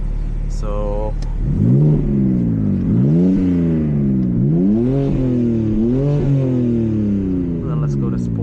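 A 2025 BMW G80 M3 with straight-pipe exhaust and valves open revs repeatedly, each rise and fall of the engine loud and close, with a brief spoken word at the start.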